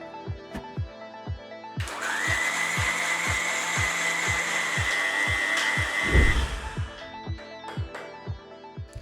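An electric blender grinding seedless tamarind pulp starts up with a loud, high whirring grind, runs steadily for about four seconds, then winds down and stops, amid light clicking.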